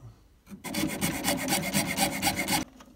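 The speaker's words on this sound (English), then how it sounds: "It's a bit of a tricky bastard to get out. So, junior hacksaw." A junior hacksaw cuts through the return manifold of a Worcester Bosch boiler, about two seconds of quick, close, rhythmic rasping strokes with a short pause before and after.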